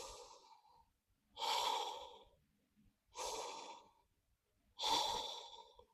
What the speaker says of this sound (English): Okay, keep breathing.